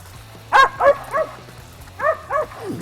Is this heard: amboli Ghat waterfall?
no